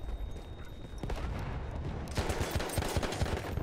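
Rapid bursts of Madsen machine gun fire in the video game Battlefield 1, loud and close, growing denser in the second half amid other battlefield gunfire and clatter.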